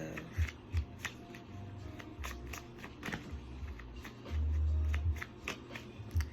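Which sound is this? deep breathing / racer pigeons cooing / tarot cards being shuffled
tarot cards being shuffled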